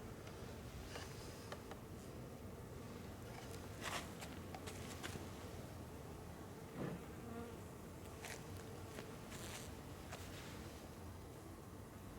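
Honey bees buzzing in a beehive opened for an oxalic acid treatment, a faint continuous hum with a few brief clicks and knocks from handling the hive.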